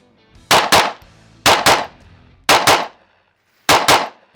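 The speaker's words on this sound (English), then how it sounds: "We're just gonna shoot some doubles on this just so I can learn this trigger." A DC Precision DC9R pistol fires four quick double-taps, each pair of sharp, loud reports separated by about a second of quiet, with no voices.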